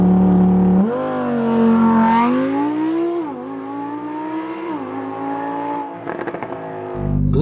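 A 2020 Lamborghini Huracan EVO launches hard from a standstill to 60 mph, its engine note climbing steadily through several upshifts with brief dips between gears, loud and close throughout, ending with a settled idle.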